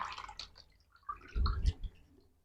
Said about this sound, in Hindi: छान करके यहाँ टप में पानी रखें, इसमें हम डाल दे रहे हैं